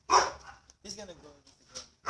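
Dogs bark in short, sharp yaps and yips at close range, a few separate bursts spaced across a couple of seconds, with voices nearby.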